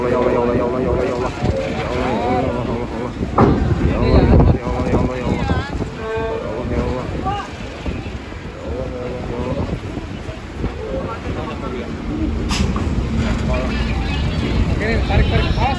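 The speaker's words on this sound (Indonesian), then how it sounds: "Anginnya kencang banget guys." Strong wind blows hard at a harbor during a storm with high waves, a loud continuous roar buffeting the microphone while voices talk and shout over it throughout.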